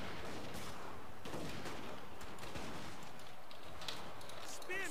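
Rifle-armed infantry open fire in a Total War: Warhammer battle, a dense rolling crackle of many gunshots that keeps up steadily over distant battlefield noise.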